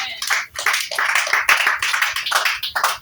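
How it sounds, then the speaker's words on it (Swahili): A crowd claps together in a large room, steady enthusiastic applause with rhythmic bursts, no voices over it. "Pigia Yesu Kristo makofi."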